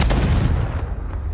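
A Confringo blasting curse explodes in the Hogwarts Legacy video game, a single loud, close boom with a heavy low rumble that decays quickly over about a second.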